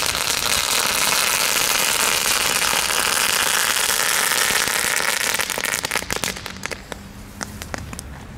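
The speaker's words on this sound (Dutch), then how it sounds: "Een eigen gemaakt bommetje." A homemade firecracker explodes in a loud, dense crackling burst that roars for several seconds, then thins out into scattered pops and sputters.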